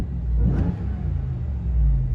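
A 2021 RAM TRX engine revs in a low rumbling swell that rises and eases back, heard close and steady with no talking.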